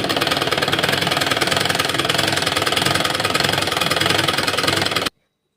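A sewing machine stitching the button placket of a shirt, a loud, fast, even mechanical whirr of rapid stitch pulses that runs steadily and then cuts off abruptly into silence.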